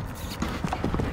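Horse hooves clip-clopping close by in a short, quick, uneven run of thuds over a constant background rumble, with no speech.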